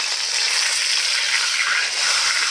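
Fish fries in hot oil in a pan with a steady, loud, close hiss and crackle that holds throughout, and no one speaks.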